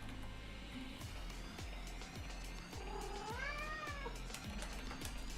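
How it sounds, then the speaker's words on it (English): A cat meows close by, a drawn-out rising and falling call in the middle, over a steady background hum with regular faint ticking. "shush cat."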